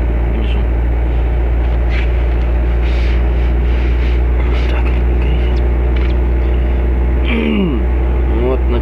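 A Nissan Almera N15 engine hums and revs steadily after a throttle body cleaning, a loud continuous low drone with a brief rise in pitch near the end.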